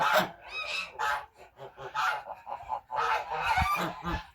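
Several village ganders honk repeatedly in loud, overlapping bursts close by, with short pauses between calls.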